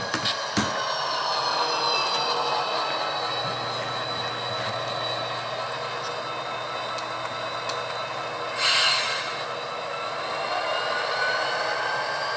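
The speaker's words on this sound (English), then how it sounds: "little mini locomotive in the facility here" A small model railroad mini locomotive running in a layout facility gives a steady whining drone with shifting motor tones, a low hum building midway and a brief louder hiss near the end.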